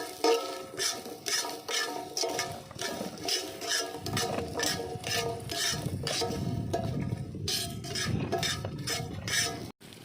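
Small onions (shallots) tossed into a pan for mutton chops gravy, with repeated metallic scraping and clinks of a spoon, then a steady sizzle of frying underneath.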